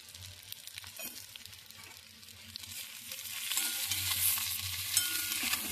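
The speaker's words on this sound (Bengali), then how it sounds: "নাড়াচাড়া করে নিচ্ছি" Fish curry with turmeric, salt, potato and eggplant in tamarind water simmers and sizzles in a pan while being stirred, a soft steady frying hiss that grows slightly louder, with faint scraping.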